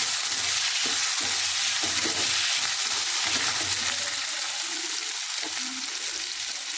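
Cut potatoes, onion and green chilies with cucumber sizzle and fry steadily in a hot pan, a close, continuous crackling hiss with occasional soft stirring thumps and no talk.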